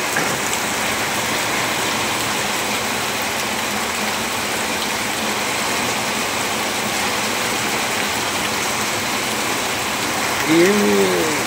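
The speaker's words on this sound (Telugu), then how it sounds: "వర్షం అయితే పడుతుంది బాగా." Heavy, steady rain pours down without a break during the monsoon season, a dense broadband hiss of drops on surfaces that fills the whole span, with a brief faint knock near the end.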